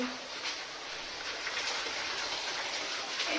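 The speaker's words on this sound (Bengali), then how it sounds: "এই দেখো জল পড়েই যাচ্ছে, মানে এত জোরে বৃষ্টি হচ্ছে" Heavy rain pours down in a dense, continuous hiss of drops hitting surfaces, loud and close throughout.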